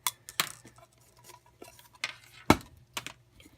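A spoon and aluminum cook kit pieces for a woodgas stove are handled up close, producing sharp metallic clinks and clatters in an irregular series, with quieter rattles between them.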